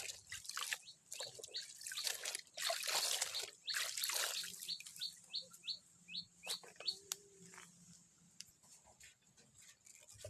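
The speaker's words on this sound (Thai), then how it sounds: "เราก็จะน ำ ต้นหอมค่ะ มาล้างทำความสะอาดนะคะสักสองรอบค่ะ" Spring onions are rinsed in water for a pickle, with quiet bursts of splashing and trickling followed by drips, as birds chirp faintly in the background.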